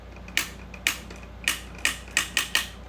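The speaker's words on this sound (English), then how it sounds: "it has a really nice clicker in there" The ratchet clicker on a 1982-83 G.I. Joe HAL toy vehicle gives sharp, close plastic clicks in an irregular run of about seven, with short quiet gaps between them.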